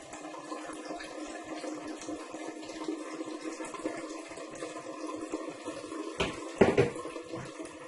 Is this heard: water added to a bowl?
yes